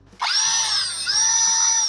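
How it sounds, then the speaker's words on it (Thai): A power drill spins up and whines steadily for about two seconds while boring a hole to pass electrical wire into an inner junction box, close and loud with no talking. "ใช้สว่านนะครับ เจาะเพื่อเอาสายไฟ ร้อยผ่านเข้าไปในกล่องต่อสายด้านในครับ"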